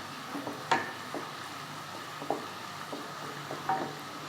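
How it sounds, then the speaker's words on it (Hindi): Onions frying in hot oil mixed with desi ghee in a pot for mutton korma. There is a quiet steady sizzle with a few sharp stirring clicks and pops, close and with no talk. "तेल गर्म होने पर हमने प्याज डाल दी इसमें।"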